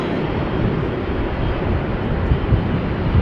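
An Airbus A330-200 at Amsterdam Schiphol Airport, a steady broad engine rumble heavy in the low end, loud and unbroken with no voices.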